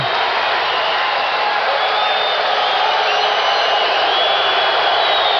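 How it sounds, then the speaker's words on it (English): Arena crowd at a 1989 Bulls vs Cavaliers NBA basketball game roars and cheers in a dense, continuous wall of noise, loud and steady with scattered whoops and no break. "The stadium crowd revs up."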